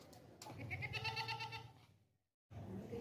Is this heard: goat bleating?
yes